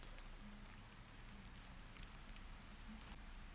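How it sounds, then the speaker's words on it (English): Heavy rain falls steadily outside a shrine, a soft, even hiss of drops on surfaces, quiet and continuous throughout. "It's raining quite heavily."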